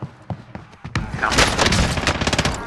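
Gunfire in Call of Duty: Modern Warfare Warzone, starting with a few separate loud shots and building into dense, rapid automatic bursts up close.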